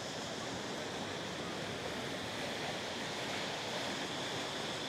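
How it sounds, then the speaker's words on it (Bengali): Sea waves break steadily on a beach in Phuket, Thailand, as a continuous, dense roar of surf with no pauses and no voices. "এখানে ঢেউগুলো আছড়ায় পড়তেছে।"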